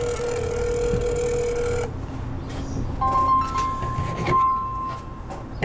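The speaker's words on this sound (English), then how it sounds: "And Diana is calling me on my other phone." A telephone ringing with an incoming call, a bright tonal ring that cuts off, followed by quieter clicks and a faint second tone in a room.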